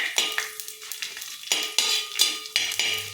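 Ragi upma with roasted gram is stirred in a pan: a spoon scrapes and clinks against the metal in a steady series of close strokes, with a soft sizzle underneath.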